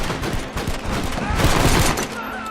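Rapid overlapping gunfire in a Red Dead Redemption shootout, dense crackling volleys of rifle and pistol shots, loud and continuous, with shouting voices mixed in.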